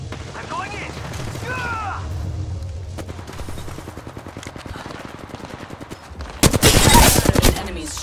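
Gunfire in the video game Apex Legends: rapid automatic bursts crackle under the chatter of players, then a loud, dense volley of shots hits near the end.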